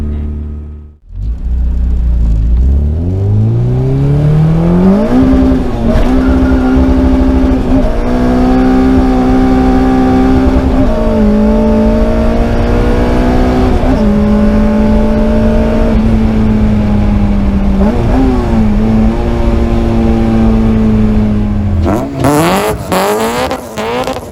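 A K24-powered Honda CRX engine revs hard and close, its pitch climbing and holding at high revs through repeated throttle blips, then cutting off near the end. No one speaks over it.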